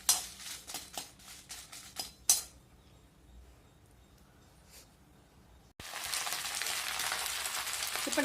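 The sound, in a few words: roasting chillies in a pan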